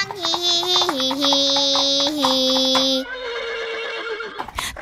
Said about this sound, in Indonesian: Kuda bilang hihihihihi